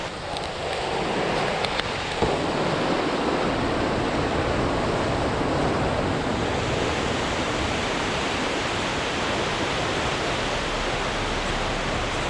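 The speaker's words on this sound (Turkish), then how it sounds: "Buradan sonra Allah ne verdiyse dalgalarla boğuşuyorsunuz arkadaşlar." Rough sea surf crashes at a rocky spring on the coast, a dense, loud, continuous roar of breaking waves with wind rushing across the microphone and no pauses.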